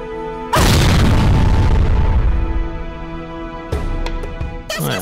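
Grenade blast in Worms Armageddon: a sudden loud, booming explosion that rumbles and slowly fades over a few seconds, followed by a second sharper burst and further crackling impacts.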